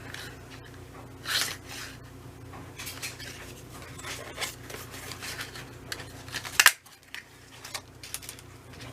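Scissors cutting paper scraps for making pinwheels, several short crisp snips spread across the stretch, close but fairly quiet, with faint handling rustle between cuts and no voices.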